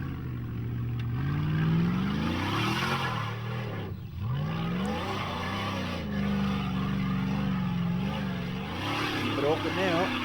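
A supercharged Lexus-engined F-Class 4x4 trials vehicle revs hard at a Whanganui trials round, its engine pitch rising and falling repeatedly in loud surges with a brief drop midway, while a commentator talks over it.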